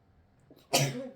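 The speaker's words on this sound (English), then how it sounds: "That's probably like the 7th time this week I've sneezed in one of these videos for you guys." A single sharp human sneeze bursting out after a brief quiet intake of breath, close and fairly loud, with no talking around it.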